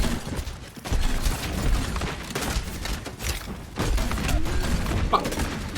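Overwatch gunfire crackles in dense, continuous bursts on the Numbani map, loud and close with thuds and impacts mixed in, while a player speaks over the shooting.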